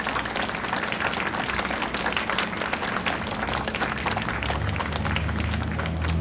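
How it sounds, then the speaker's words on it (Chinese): A crowd at an election rally bursts into dense, sustained applause, many hands clapping loudly and continuously from start to finish with no pause. "一个热烈的掌声好不好"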